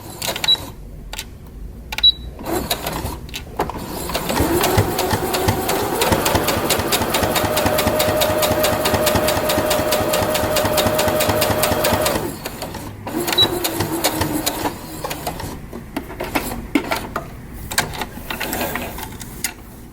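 A sewing machine stitches the lining of a fabric sunglasses case close to the edge, with a back stitch. A fast, steady mechanical whir runs for several seconds, stops briefly, then resumes in shorter bursts alongside small clicks.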